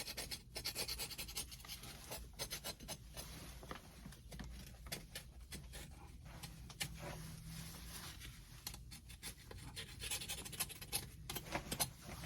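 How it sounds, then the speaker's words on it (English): Scraping and rasping as corrosion is rubbed off a copper water pipe during a water line repair, a steady close-up scrubbing with irregular strokes and no talking. "Clean any of this corrosion up on here, so that way we get a nice clean"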